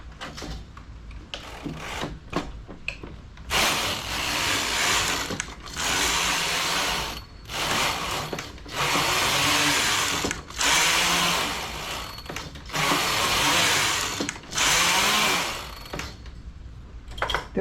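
The carriage of a knitting machine sweeps back and forth across the needle bed for six rows, loud whirring passes of about two seconds each separated by short pauses, close by and without talk.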